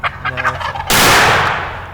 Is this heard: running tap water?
no